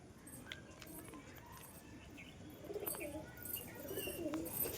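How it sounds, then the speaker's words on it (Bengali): A pigeon, a healthy female offered for sale, gives low soft coos in the background, faint and partly under room noise and a few light clinks. "কোনো অসুখ বিসুখ না, একদম ফিট কবুতর।"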